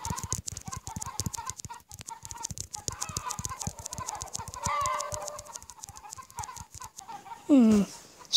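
Rapid taps drive a steady stream of clucking chickens in the mobile egg-farming game Egg Inc., the busy clucks layered over a fast click rhythm, capped near the end by a loud rising squawk.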